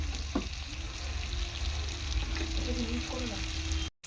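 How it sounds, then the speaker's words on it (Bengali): Green tomatoes and chilli sizzle steadily in a hot pan for a spicy small bele fish curry, a constant close frying hiss with light stirring, cut off abruptly at the end. "ভালো করে টমেটোটাকে কষাতে হবে।"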